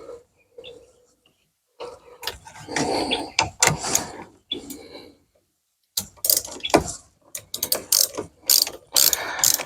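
A socket wrench ratchet clicks in bursts while a bolt is tightened during a solar panel wiring hookup, rapid close metallic pawl ticks in several uneven runs separated by short pauses.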